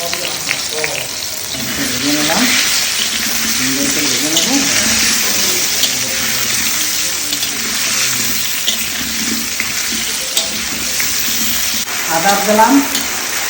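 Ginger sizzling in hot oil in a pan for a chicken curry, a loud, continuous close frying crackle with scraping stirs and clinks of a utensil throughout.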